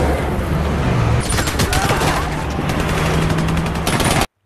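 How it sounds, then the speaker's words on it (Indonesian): Rapid gunfire crackles through an action film shootout scene set in the Korean War, loud bursts of shots layered over a dense rumbling soundtrack and continuing without pause until an abrupt cut. "Dan terjadilah kejar-kejaran ditambah adegan tembak-menembak khas film action."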